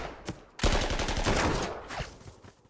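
Gunfire in the WWII strategy game Panzer Corps 2, a sharp burst of rapid repeated shots that fades out over a couple of seconds.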